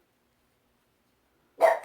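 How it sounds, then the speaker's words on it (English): One short dog bark, loud and close, heard once near the end after near silence. "Dogs are barking."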